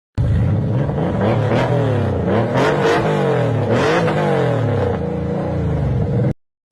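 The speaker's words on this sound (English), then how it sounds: "The first car sound is Porsche 993 RWB, and it has flat V6." Porsche 993 RWB with a flat-six engine revving hard, loud and close, with repeated rising and falling throttle blips and a sustained roaring drone throughout, no talking.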